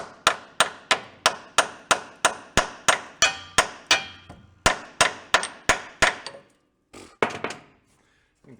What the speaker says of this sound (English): Let's go beat a socket on.